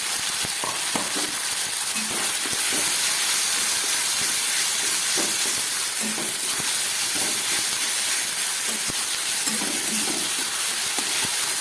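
A ground paste of ginger, garlic, onion and green and dried chillies fries in hot oil with a loud, unbroken hissing sizzle, punctuated by soft stirring scrapes, close by and steady throughout.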